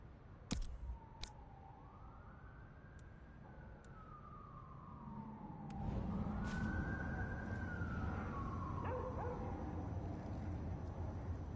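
Police sirens wail in Vampire the Masquerade Bloodlines 2, with two long rising-and-falling sweeps over a low rumbling background, some sharp clicks near the start, and no talking.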